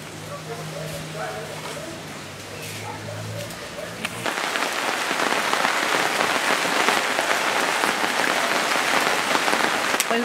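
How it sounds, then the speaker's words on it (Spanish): Rain begins in a home kitchen where sesame paste is being ground on a metate. A quieter stretch with a faint hum and soft voices gives way to a loud, steady downpour drumming on a surface. "Está lloviendo, ¿no?"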